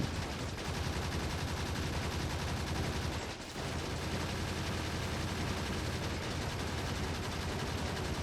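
Automated gun turrets in Factorio 2.0 open fire on biters, a loud, dense barrage of rapid gunfire that runs without letup for about eight seconds, with only a brief dip midway.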